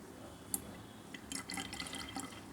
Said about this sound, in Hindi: तो विनेगर को हम इस तरह से डाल देंगे।